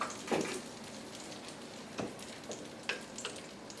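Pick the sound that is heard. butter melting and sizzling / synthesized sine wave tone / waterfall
butter melting and sizzling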